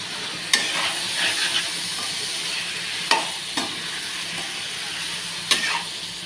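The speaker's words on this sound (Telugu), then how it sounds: "వంకాయలు వేసి వాటిని బాగా కలుపుకుందాం." Brinjals stirred in a hot kadai while they fry, a steady sizzle broken by a few sharp scraping knocks of the spoon against the pan.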